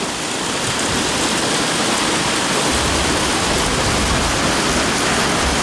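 Heavy, steady rain pours down in a dense, continuous hiss, loud and close, with no voices, growing slightly fuller in the low end partway through.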